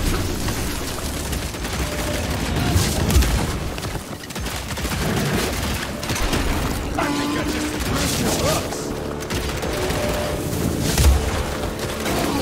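Shotgun blasts in the co-op action game Evil West, with heavy booming shots spaced through dense, continuous combat noise and mechanical clatter, loud and close throughout.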